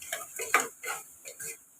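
A spoon stirs coriander powder and chili powder into mutton curry in a pressure cooker, making a few soft, close scraping and clinking strokes against the metal pot in an uneven rhythm.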